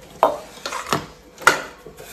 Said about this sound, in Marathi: पहिला भांडी घासते